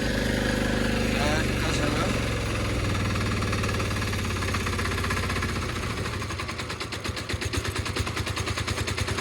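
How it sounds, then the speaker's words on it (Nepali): A tractor engine runs loudly and close, its rough idle turning into a fast, rhythmic knocking chug toward the end. "फाइनली ट्र्याक्टर स्टार्ट भयो"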